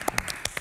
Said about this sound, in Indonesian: Tepuk tangan lagi buat Ibu Cahya